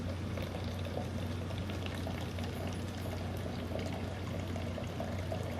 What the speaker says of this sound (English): I'm now going to pour the creek water into the system.